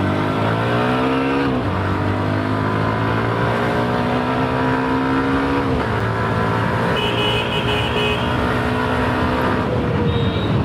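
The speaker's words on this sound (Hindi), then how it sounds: "यहाँ पे थोड़ा बहुत आपको ट्रैफिक मिलने वाला है।" A 2026 Hero Xtreme 125R motorcycle ridden along a busy city main road: a loud, steady engine drone that shifts pitch with gear changes, set against continuous traffic noise, with no talking.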